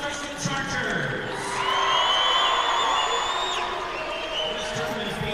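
Fans fill a gym with sustained cheering and whistling whoops at a boys high school state basketball tournament, Vermillion Tanagers against Sioux Falls Christian Chargers, the roar swelling midway before easing, steady throughout.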